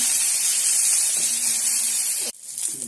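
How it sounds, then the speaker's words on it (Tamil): Cumin, curry leaves and dried red chillies sizzle in a generous pour of hot oil for a Cuddalore-style fenugreek curry, a steady loud crackling hiss that cuts off abruptly near the end, leaving quieter frying. "சீரகம் போட்டு தாளிச்சிட்டு கருவேப்பிலை ரெண்டு காஞ்ச மிளகா போட்டுட்டு நல்லா வதக்குங்க"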